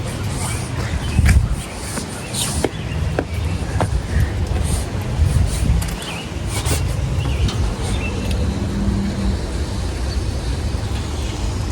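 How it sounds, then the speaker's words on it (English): Strong wind gusts roar steadily outdoors during heavy rain, a broad continuous rushing noise with a few sharp knocks and faint talk beneath it. "the wind is like 15, 16 right now, and it's going to get a little bit stronger with the gusts"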